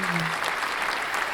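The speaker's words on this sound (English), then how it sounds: "Round of applause." A short burst of dense clapping, like a round of applause, steady and fairly close throughout with no pause.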